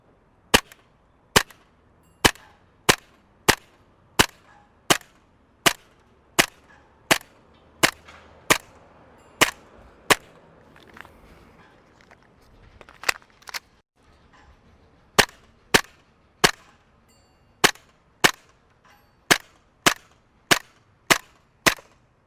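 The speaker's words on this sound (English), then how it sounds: "I'm going to try to hit one of my metal plates down there. It's going to take me a couple shots" An ASG B&T USW A1 gas blowback airsoft pistol fires at metal plates, a long steady series of sharp, snappy shots at even intervals, with a short pause midway before the regular firing resumes.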